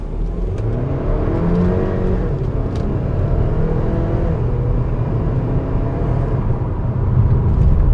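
A 2022 Kia Sportage SX pulls away hard from a near stop, the engine note swelling into a steady, loud whir heard from inside the cabin, with a slight rise in intensity toward the end.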